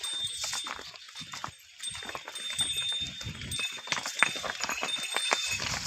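A bullock's hooves clop steadily over stony ground, an uneven walking rhythm of hard knocks against a faint outdoor background.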